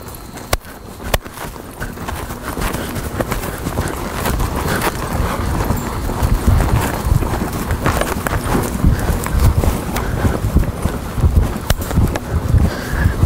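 A young colt canters in a flying lead change session, hooves beating a steady clip-clop rhythm on soft ground under a continuous low rumble of movement, close and fairly loud.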